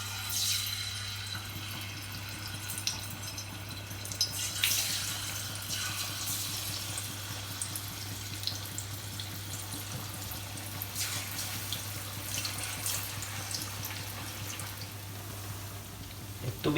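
Panelle fry in seed oil with a steady, close hiss and scattered crackling pops that continue throughout, with no voices.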